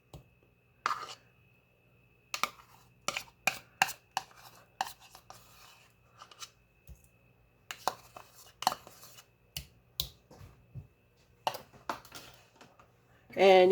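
Sugar and sour cream stirred together by hand in a bowl, giving quiet intermittent clicks and scrapes in irregular bursts over a low background hum, with no talking.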